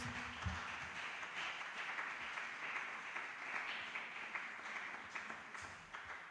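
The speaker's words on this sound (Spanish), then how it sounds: "Un aplauso para la señora Vela y el señor Seguillo" Faint, steady applause from a church congregation during a sermon, soft scattered clapping heard at a distance with no clear voices.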